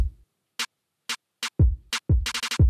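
Punchy electronic kick drum hits with bright clicky percussion between them, an irregular beat pattern, dry and up close.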